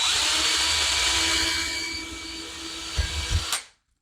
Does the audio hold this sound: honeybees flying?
no